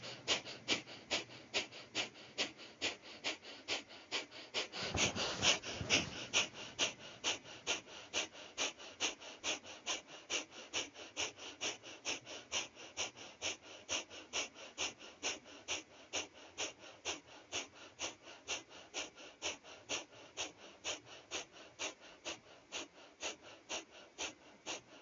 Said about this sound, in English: I'm going to do about 50 breaths of fire, 50 to 100.